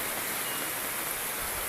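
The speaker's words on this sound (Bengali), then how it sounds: "দেখেন কি পরিমাণে বৃষ্টি" Heavy rain pours down in a steady, dense hiss with no breaks, even and moderately loud throughout.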